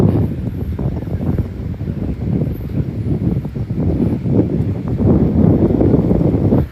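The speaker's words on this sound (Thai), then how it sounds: "ลมแรงมาก" Strong wind buffets the microphone at a crowded beach kite festival in Pattaya, a loud, gusting roar of low rumbling that swells and eases in waves, with no voices standing out.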